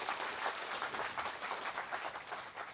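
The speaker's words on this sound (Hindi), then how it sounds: "तो बजाओ ताली अपने लिए।" A seated audience at a health and wealth motivational talk claps in a lively, continuous burst of applause that is fairly soft and steady and carries no speech.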